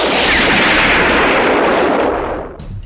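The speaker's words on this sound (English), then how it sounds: "as Naldina's forces tried to move forward, the Spear of Light was bombarded by debris that was left hanging from the Moon Raider's explosion" Spaceship hull pounded by debris from an exploding enemy vessel in a sci-fi space battle: a loud, dense roaring barrage of impacts and rumble that holds steady, then thins and fades near the end.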